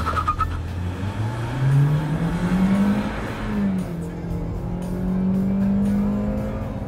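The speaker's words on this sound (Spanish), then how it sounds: "Caja en modo automático, pedal de freno, acelerador y vamos." Hyundai Creta with an automatic gearbox accelerating hard from a standstill, the engine note rising steadily through the gears as it pulls away, loud and close throughout.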